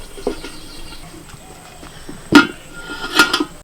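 A lid set onto an aloo biryani pot on a low flame, giving a sharp metallic clank followed by a couple of lighter rattling knocks over quiet background clatter.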